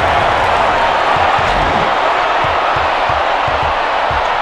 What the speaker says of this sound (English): Listen to that crowd, Dick Vitale.